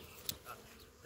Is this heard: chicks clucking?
no